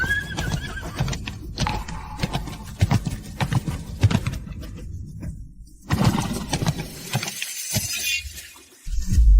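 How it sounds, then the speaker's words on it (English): A spooked horse whinnies loudly and its hooves clatter nearby, with a shattering, breaking crash and bursts of commotion in between quieter pauses. "The horse is spooked."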